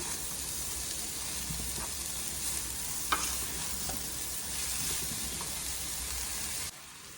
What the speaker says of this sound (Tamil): எல்லா மசாலாவும் இந்த மாங்காயில் படுற அளவுக்கு நல்லா கிண்டி விடுங்க